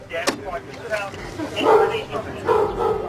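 A dog barks repeatedly nearby at officers serving a warrant, sharp yips mixed with lower woofs, while people talk over it.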